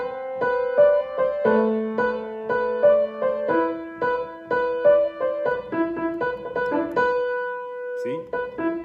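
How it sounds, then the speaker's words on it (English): First part of the gigachad theme played on a melodic instrument, a steady sequence of sustained, tonal notes moving through a repeating phrase, alone and fairly loud, with a brief higher flourish near the end. "the first part, the first level of gigachad should sound something like this."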